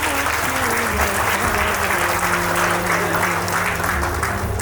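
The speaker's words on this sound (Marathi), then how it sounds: "आपण परत एकदा जोरदार टाळ्यांच्या गजरात स्वागत करायचं आहे." Steady, continuous clapping from a crowd of wedding guests at a Buddhist wedding, filling the room evenly from start to finish with a faint tonal hum beneath.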